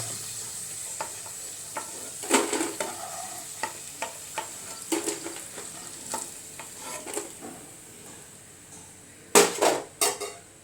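Snacks frying crisp in hot oil, a steady sizzle broken by repeated scraping and clattering strokes of a utensil in the pan, with a pair of louder bursts near the end; no one speaks.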